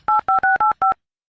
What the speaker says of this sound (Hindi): पड़ोसन को फोन लगाता हूँ।